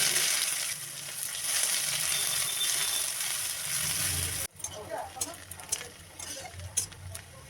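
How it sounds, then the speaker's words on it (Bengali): Chopped onion sizzling and crackling in mustard oil with cumin and bay leaf in a kadai, a dense hiss that drops abruptly midway to quieter, uneven spitting and pops. "কড়াইতে সর্ষের তেল গরম করে তাতে জিরে আর তেজপাতা ফোড়ন দিয়ে কুচনো পেঁয়াজটা দিয়ে দেবো"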